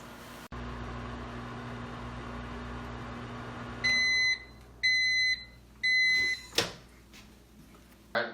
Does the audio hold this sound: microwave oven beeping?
yes